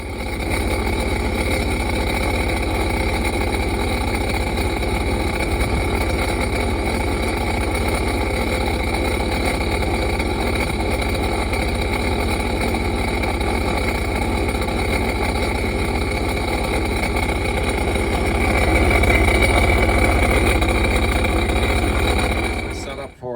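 A steady 2007 Sea-Doo 4-TEC personal watercraft engine drones continuously, loud and close, with a slight rise in intensity near the end before it cuts off abruptly.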